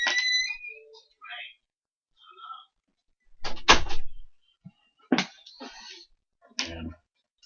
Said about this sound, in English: I can't open the door.